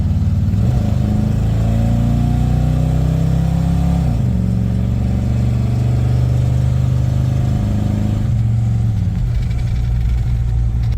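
A 1973 Lincoln Continental Town Car engine with carburetor trouble runs steadily with a deep, low rumble, shifting pitch a few times as it idles and pulls away, close and loud throughout.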